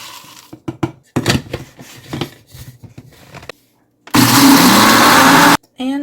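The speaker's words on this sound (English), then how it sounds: "I only have a regular blender, I will be using it at 1/2 cup at a time." A regular blender roars loudly for over a second, grinding dry oats into flour, after a series of clattering knocks and taps.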